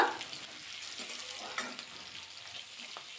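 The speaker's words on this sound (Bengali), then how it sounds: "পেঁয়াজটা কিন্তু নাড়াচাড়া করে নিলাম পেঁয়াজের মধ্যে অ্যাড করে দেবো চার থেকে পাঁচটা কাঁচা লঙ্কা" Onions with four or five green chillies fry in a pan while being stirred, a soft, steady sizzle with a few faint scraping strokes, quiet and close, no talking.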